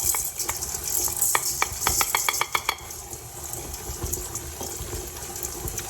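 Chocolate chips being stirred into cookie dough in a bowl: a run of sharp, close clicks and scrapes, denser in the first half and then thinning to a softer, steady mixing sound, with no talking.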